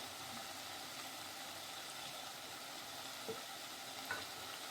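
Cauliflower and mixed vegetables frying in a pan give a quiet, even sizzle, with a few soft scraping touches as they are stirred.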